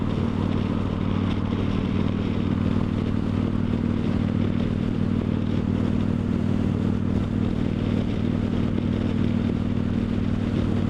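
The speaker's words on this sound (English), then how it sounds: "this bike is absolute butter going down the road right now" A Victory Judge motorcycle cruising down a road, its engine giving a steady, continuous low rumble throughout with constant wind and road noise, no talking.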